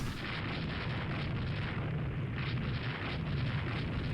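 Naval gunfire and shell hits in the Rule the Waves 2 warship battle game, a dense steady rumble of distant explosions and booming artillery with no clear breaks, moderately loud.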